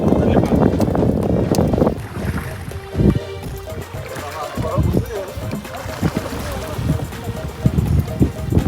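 A small wooden fishing boat draws near on the water. Wind buffets the microphone throughout, and there is uneven splashing and knocking with voices in the background.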